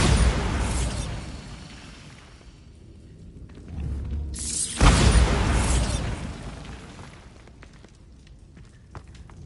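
A Bombarda spell explodes in Hogwarts Legacy on PS4, with two loud booming blasts several seconds apart, each a broad burst that rumbles and fades into a quieter rushing tail.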